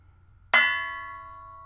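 A flashlight lightly taps a steel shooting target once, giving a single sharp metallic clang that rings on with a long, clear decaying tone, close and alone over faint low background hum.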